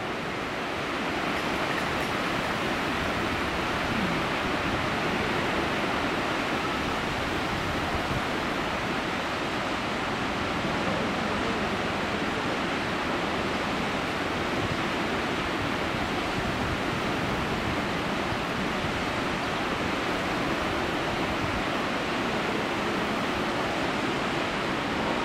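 Steady, loud rushing of turbulent water churning without pause, two currents flowing in from opposite directions and colliding, a dense roar filling the whole stretch with no voices.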